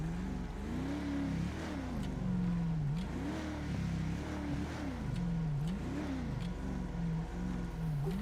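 A car driving a cone course at Michigan state trooper training, its mid-pitched engine rising and falling in repeated revving cycles as it accelerates and slows, steady and fairly close, with no talk.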